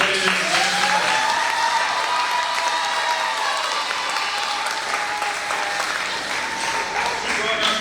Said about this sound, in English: give a round of applause to Dr. Campbell